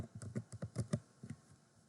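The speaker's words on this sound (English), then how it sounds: "Let me just type it out." Quiet typing on a computer keyboard: a quick run of irregular key clicks, faint and close, with no talk over it.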